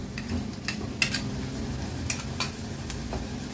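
Coconut-onion masala paste cooking in hot oil, a steady low sizzle with occasional scrapes and clinks of a spoon stirring against the pan, close and continuous with no talk.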